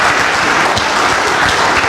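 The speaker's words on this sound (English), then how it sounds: "A big round of applause for them." An audience gives volunteers a big round of applause, dense steady clapping from many hands filling the room without pause.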